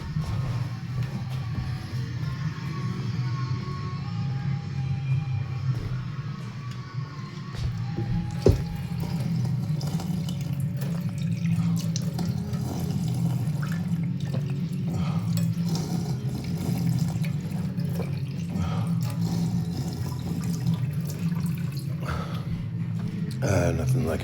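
Water runs steadily from a $4,000 home filtering system, a soft continuous trickle and splash in the background beneath ongoing conversation.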